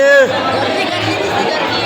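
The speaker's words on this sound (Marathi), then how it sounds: "फुल गर्दी" Dense crowd chatter at a Gokulashtami celebration, many voices overlapping close by, loud and continuous after a brief tonal sound at the start.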